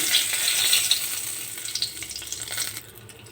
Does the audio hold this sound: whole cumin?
yes